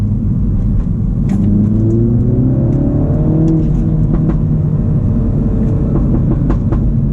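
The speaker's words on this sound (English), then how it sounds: "Dude, this exhaust is so good." Modified manual Mini Cooper S rumbles from inside the cabin, exhaust droning low and steady as the engine pulls and rises in pitch through acceleration, with faint clicks.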